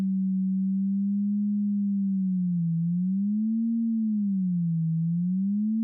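An FM synthesizer tone from Ableton Operator plays a pure, steady sine-like hum with slow vibrato swooping gently up and down in pitch, sounding alone and at a constant loudness.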